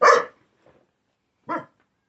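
Dogs barking at home: one loud, close bark, a faint yip, then a second shorter bark after a pause, with no talking.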